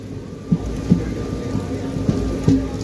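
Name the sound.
heavy monsoon rain during a train journey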